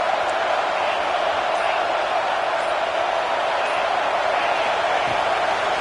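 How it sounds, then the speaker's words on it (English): A stadium crowd at a college football video game roars at a third-down play in the red zone, a dense, unbroken wash of noise holding at an even level throughout. "this crowd is at fever pitch"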